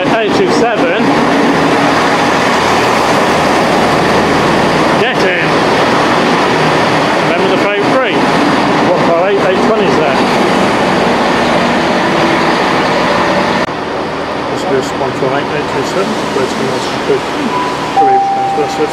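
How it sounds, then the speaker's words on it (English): An Arriva Trains Wales passenger train arriving at Shrewsbury station rumbles loudly and steadily close by, a continuous roar of wheels and engine with a brief high squeal near the end. "Here comes my train."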